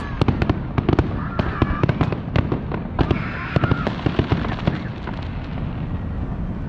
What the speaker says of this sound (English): they're shooting fireworks off of the observation tower